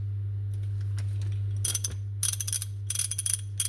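Ratchet clicking from a 1/2 inch NAPA Evercraft socket wrench with quick release, about 72 teeth, in quick close bursts of fine clicks over a steady low hum.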